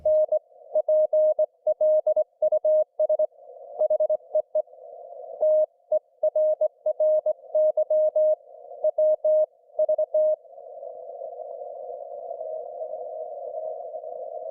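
Morse code CW from a bug key during a slow speed contest: a steady tone keyed in quick dots and longer dashes in uneven bursts, then holding as one long continuous note at the end.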